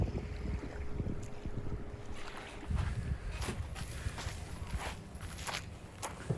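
Footsteps crunch along at a steady walking pace as someone heads deep into the woods after landing an Intex Excursion inflatable boat, with gusty wind noise buffeting the microphone throughout.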